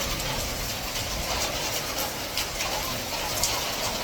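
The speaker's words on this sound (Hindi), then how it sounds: "आपने देखा कि कितनी ज़्यादा बारिश हो रही थी" Heavy morning rain pours down in a dense, steady hiss with scattered sharper patters and clicks throughout.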